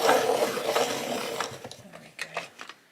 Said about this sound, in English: It desperately needs sharpening